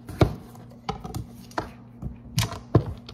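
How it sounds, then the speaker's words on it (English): A knife chops potatoes on a cutting board for a beef stew, giving irregular sharp knocks spaced about half a second apart over a low steady hum, close and clear with no talking. "I'm just in the zone chopping up my potatoes"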